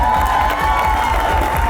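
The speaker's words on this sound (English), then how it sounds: "clap it up for that" A crowd at an Allen Iverson book tour event in Philadelphia cheers and claps, a dense sustained roar of voices and hands.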